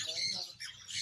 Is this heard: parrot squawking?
yes